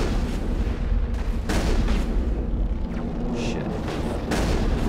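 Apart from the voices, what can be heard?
gunfire in the video game Mass Effect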